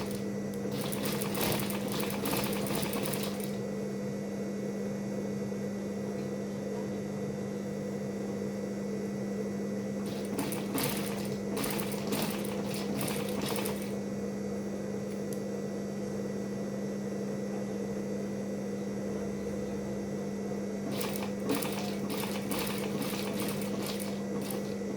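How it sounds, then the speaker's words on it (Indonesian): A sewing machine stitches the collar of an abaya in three short bursts of rapid whirring, with a constant electrical hum and room noise in between. "Kita jahit dulu ya."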